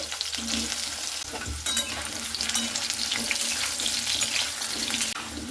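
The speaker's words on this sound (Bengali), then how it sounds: "তো তেলটা গরম হয়ে গেলে দিয়ে দিচ্ছি সেই আলুগুলোকে।" Potatoes frying in hot oil in a kadai for a jackfruit curry, a steady hissing sizzle with watery bubbling and some stirring, close and continuous with no talk.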